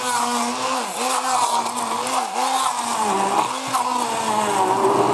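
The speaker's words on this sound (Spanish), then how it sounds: "Y por último, la cebolla. Y ahora lo batimos." An electric blender whirs loudly while mixing avocado gazpacho with onion, its motor pitch sagging and recovering repeatedly as the contents churn, with no talk over it.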